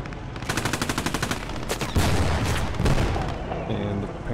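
In the Post Scriptum battle game, a German Panzer and a French tank exchange fire: a rapid burst of loud gunfire gives way to heavy booming blasts and a dense, rumbling barrage, close and loud.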